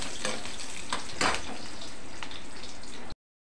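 Cumin and black pepper fry in hot oil with a close, steady sizzle, punctuated by a few louder crackling bursts as the spices are stirred.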